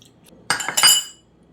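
Utensil clinking against a bowl while mixing a sugar, cornstarch and water marinade for a beef stir fry, a short burst of a few quick clinks lasting under a second.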